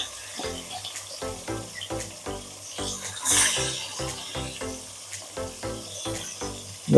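Chicken pieces for a Bengali chicken kosha sizzle in hot oil, a steady close hiss broken by regular rhythmic pulses about twice a second, likely stirring, with a brief louder surge midway and no talking.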